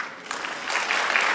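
Applause for a speaker at a live expo, a dense patter of many hands that swells slightly after the start and holds steady at moderate loudness with a few cheers mixed in.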